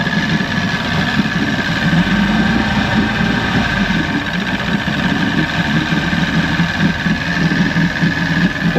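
A 1996 Force 120hp outboard motor runs steadily at low throttle, a constant loud droning idle with a rough vibrating rumble and no breaks throughout.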